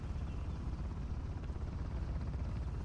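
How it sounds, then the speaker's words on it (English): A helicopter in the video game Uncharted: The Lost Legacy gives a low, continuous rotor rumble, faint and steady with no speech over it. "I didn't even know that chopper was there."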